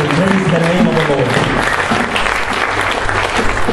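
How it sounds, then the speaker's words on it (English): A church congregation claps together during a Sunday morning service, a loud, dense and continuous burst of applause with a few voices mixed in. "Give him a clap offering this morning in Jesus' name"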